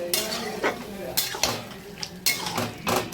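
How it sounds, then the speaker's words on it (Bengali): Boiled chickpeas are stirred into a spice masala in a metal pot, a spoon scraping and clanking against the pot in irregular strokes, close and fairly loud. "এবার এই যে কাবলি ছোলা সিদ্ধটা এর মধ্যে দিয়ে দিলাম। ভালো করে নাড়াচাড়া করে নিই।"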